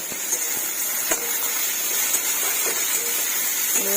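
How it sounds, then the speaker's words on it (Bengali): Bitter gourd frying in oil in a pan gives a steady, close hiss with scattered faint crackles and pops throughout, and no voices. "এবার করলাটা ভেজে নেব"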